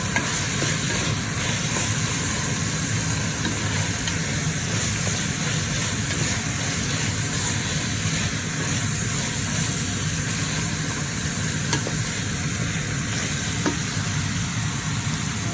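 Garlic frying in a pan for a homemade chilli, a steady close sizzle with faint scraping of stirring running throughout, alone with no talk.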